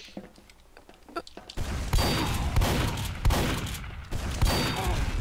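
Rapid video-game gunfire from Team Fortress 2 in a close-range duel, a dense burst of sharp shots and impacts following a few quieter clicks, with some voice underneath.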